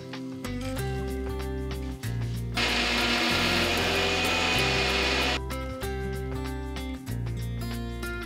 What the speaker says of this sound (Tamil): இது நல்லா சூடு ஆறினதுக்கப்புறம் மிக்சி ஜாரில் போட்டு பொடியாக்கி எடுத்துக்கலாம்.